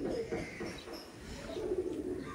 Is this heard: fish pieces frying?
no